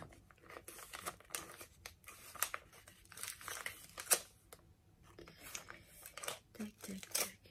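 A package being torn open, crinkling and rustling in bursts of scattered plastic crackles over several seconds, close and moderate in loudness, with a voice talking at times.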